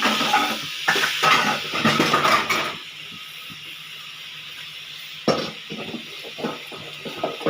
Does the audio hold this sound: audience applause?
no